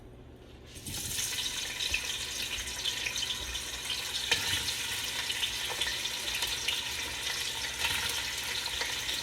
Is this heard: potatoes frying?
yes